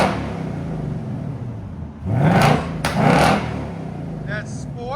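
A 2024 Ford Mustang Dark Horse with a 5.0L V8 and X-pipe exhaust in sport mode, its deep exhaust rumbling at idle and swelling through two short revs, with people talking over it.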